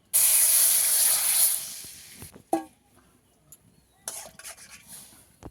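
Milk is poured into hot ghee in a wok while making semolina golapjam sweets, setting off a loud hissing, steaming burst that lasts about two seconds, followed by scattered clinks and scrapes of stirring.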